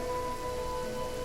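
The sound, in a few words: rain falling in video game Genshin Impact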